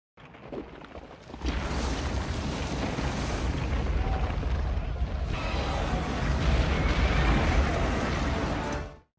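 A sudden loud blast gives way to a long, roaring rumble with crackling debris that keeps going for several seconds before cutting off.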